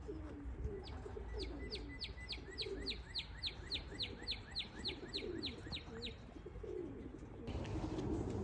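Repeated soft cooing from pigeons under a steady run of high chirps, birds calling close by against a busy background.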